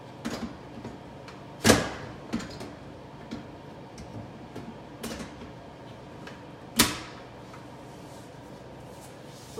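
A clean jet arm attachment clicks into place on a Combi Oven, a few sharp, fairly quiet clicks and knocks spread over several seconds against low room noise.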